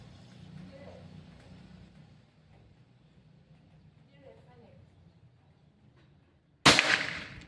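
After faint voices and low background hum, one sharp, loud shot from a Pajerogun Gen 5 air rifle cracks out near the end and quickly decays.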